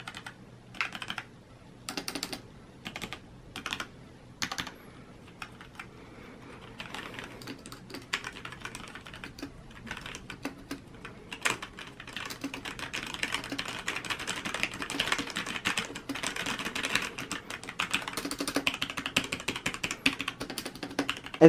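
Keys clatter on a Logitech G810 Orion Spectrum mechanical gaming keyboard, starting with sparse separate presses and building into continuous fast typing, close and moderately quiet, with no talking.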